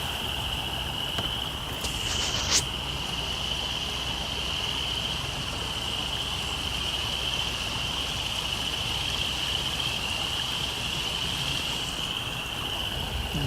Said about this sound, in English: It sounds like frogs or something.